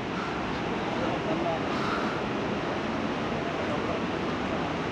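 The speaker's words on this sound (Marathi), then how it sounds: "पाण्याचा आवाज इथवर यायला लागला आता" Water rushes steadily somewhere below a hillside trail in Kerala, a constant broadband roar heard from a distance and blended with wind, with no clear breaks over the few seconds.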